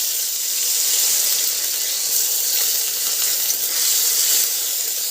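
Grated ginger sizzles steadily in hot oil with dried red chillies and radhuni for a dal tempering, a loud, even frying hiss that carries on without a break.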